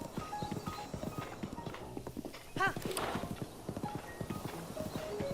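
A horse in The Legend of Zelda: Breath of the Wild clip-clops along a path in a quick, regular hoofbeat rhythm, with a brief whinny in the middle, under quiet game ambience.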